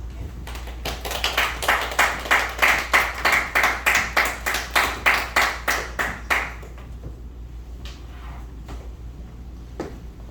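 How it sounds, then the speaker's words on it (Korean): A church congregation claps to welcome missionary Kim Jin-gon to the front at a Sunday service, a steady burst of close handclaps that swells and then stops, leaving quiet room noise. "김진권 선교사님 나오실 때 우리가 박수로 환영하겠습니다"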